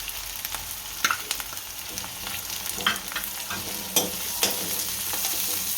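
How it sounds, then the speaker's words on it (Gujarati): Chopped onions sizzle and fry steadily in a hot pan for aloo matar paratha, a continuous close crackle with occasional stirring scrapes and no voices. "એકદમ કાંદા ગરમ થવા દઈશું"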